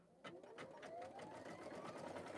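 A domestic sewing machine starts up while stitching a fabric name badge, a quiet, rapid, even whirring and ticking of the needle that begins after a brief pause and runs steadily, with no voices.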